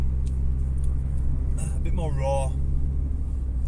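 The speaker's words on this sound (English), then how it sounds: "the engine does pull quite well for such a heavy car" Engine of a Honda Civic EK Si VTi coupe drones steadily at low pitch while driving, a continuous cabin rumble with someone talking over it throughout.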